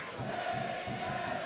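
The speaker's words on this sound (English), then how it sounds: "Home fans urging their team on." A crowd of about 4,000 home fans at a floodlit soccer stadium roars and chants in a distant, steady wash, with a faint rhythmic pulse beneath it and no clear voices standing out.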